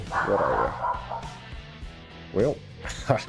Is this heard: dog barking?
yes